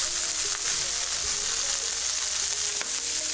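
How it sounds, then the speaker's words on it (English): Food is stir fried in a pan, a dense, loud, continuous sizzle with occasional soft clacks of a utensil moving the pieces around, with no voices. "just continuing to give those a little stir fry"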